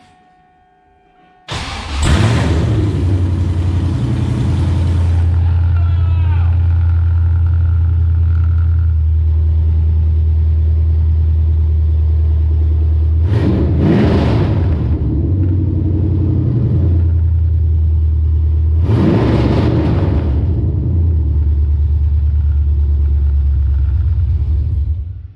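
A 1998–2002 Chevrolet Camaro V8 fitted with long-tube headers and no exhaust starts with a sudden roar and settles into a loud, deep idle, with three sharp revs blipped at intervals.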